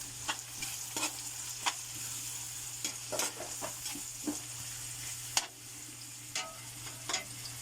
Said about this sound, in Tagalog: ilagay natin itong bawang at sibuyas. So, haluin natin.